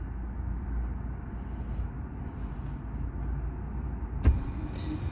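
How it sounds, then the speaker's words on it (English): Electric power seat motor in a car driving the seat forward, triggered by a diagnostic scanner, a low steady motor hum throughout with a brief click near the end, close by and without talk. "And that just moved my seat forward."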